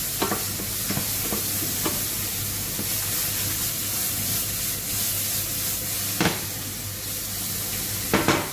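Mushrooms sweat in a frying pan as they release their water, giving a steady broadband sizzle with a low hum beneath and a few sharp clinks of a utensil against the pan.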